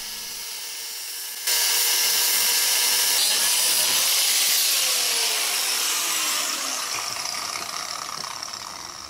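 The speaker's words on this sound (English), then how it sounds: "So this is the first cab bolt which needs to be cut off." Cutting off a seized cab bolt on a Kubota B2100 compact tractor: a power tool starts abruptly, then grinds and rasps continuously at close range, loud and unbroken, with no talk.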